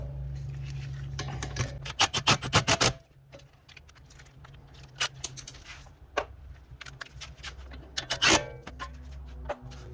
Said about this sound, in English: now we're gonna go ahead and tighten up these bolts